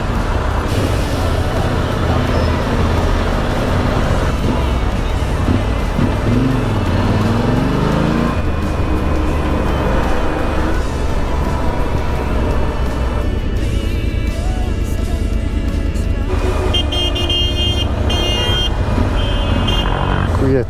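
Busy road traffic in Italy, heard from a motorcycle with the helmet visor open, roars continuously, with engines passing close by and occasional horn toots breaking through the steady din.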